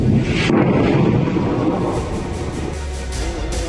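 Israeli fighter jets roaring overhead during an air strike on Khiam in south Lebanon, a loud continuous broadband rumble with a brief surge near the start, heard alone without talk.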